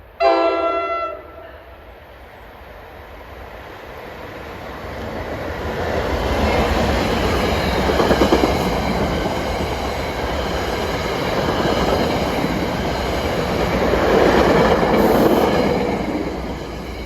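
Commuter train 6658 from Dover to New York approaching a station, a horn blast opening before a steady, swelling rumble of wheels and cars that grows louder as it nears, with no talk.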